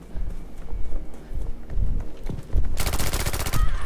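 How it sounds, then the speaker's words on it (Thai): Rapid machine-gun bursts in a Battlefield V multiplayer fight, close and loud, with dense rattling volleys that turn harsher and more continuous toward the end. "มันมีคนยิงผม"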